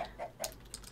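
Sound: chickens clucking in video game Rosewood

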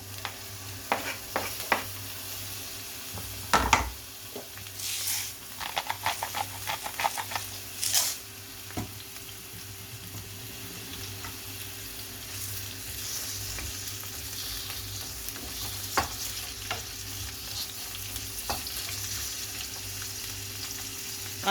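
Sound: onion sizzling while sautéed with chicken liver

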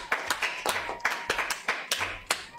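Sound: people clapping

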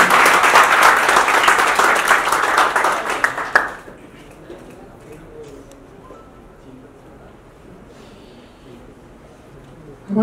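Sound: audience applause at a film launch ceremony

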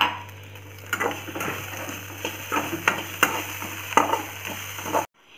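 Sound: avil (flattened rice) frying and being stirred in a pan

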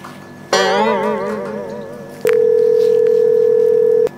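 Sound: telephone call dialing tone

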